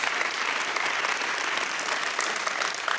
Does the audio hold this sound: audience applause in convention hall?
yes